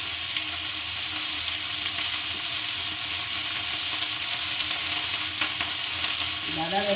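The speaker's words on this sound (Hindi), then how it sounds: "ज़्यादा देर फ्राई नहीं करना है। हमारी गोभी यहाँ पे भून चुकी है" Cauliflower frying in a pan, a loud dense continuous sizzle with steady hiss and faint occasional clinks near the end, close up with no talk.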